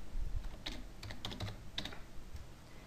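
Someone types a short entry on a computer keyboard nearby, with quick irregular clusters of light key clicks and a few pauses in a quiet room.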